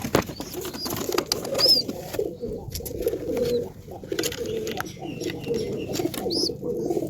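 Mayurpankhi pigeon chicks being fed give soft coos with occasional wing flaps, close by, among low background rustling.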